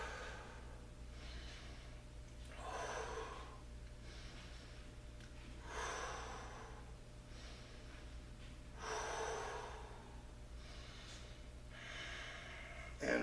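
Slow, rhythmic breaths during a men's yoga flow session, each inhale and exhale rising and falling in cycles of a few seconds, soft and close over a low steady hum.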